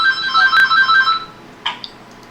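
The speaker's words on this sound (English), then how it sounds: "I don't know whose phone that was." Mobile phone ringtone chiming in a repeating melodic pattern for about a second, then fading into a couple of faint short blips, with no talking.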